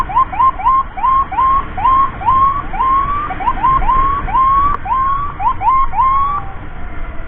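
Wailing ambulance siren with repeated rising yelp sweeps, loud and close, carried over a steady road and engine rumble during an emergency escort through traffic.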